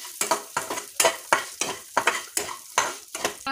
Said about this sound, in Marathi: तर हे पण आपण खरपूस असं लाल होईपर्यंत भाजून घेऊया।